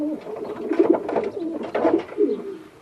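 A recessive red pied pigeon coos nearby, a series of soft throaty warbling calls rising and falling in repeated bursts, alone without talk.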